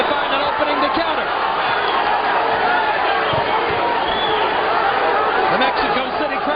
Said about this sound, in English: The Mexico City crowd on its feet as Guty comes alive